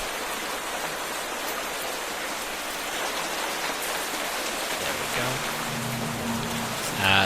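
Rain in Minecraft pours steadily as a dense, even hiss of drops on surfaces, with a low game tone and a brief spoken remark near the end.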